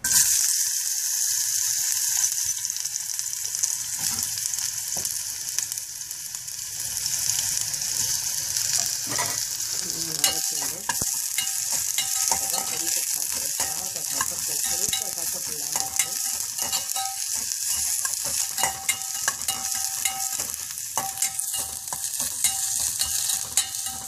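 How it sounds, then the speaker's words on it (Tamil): Sliced bitter gourd sautés in a hot pan with a steady, continuous sizzle and frequent scraping stirs throughout, with no talking. "இப்போ பாகக்காயை போட்டு வதக்கிப்போம்."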